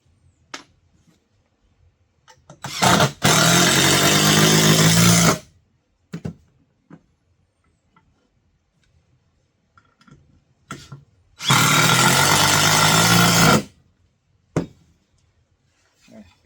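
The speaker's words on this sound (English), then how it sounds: "Run your screws in." Two bursts of a power drill driving screws into a wooden hat rack, each about two seconds of steady whirring, close and loud, separated by quiet with scattered small clicks and handling knocks.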